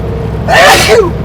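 A single loud, close sneeze with a sharp breathy burst, over a steady low rumble inside a moving truck cab.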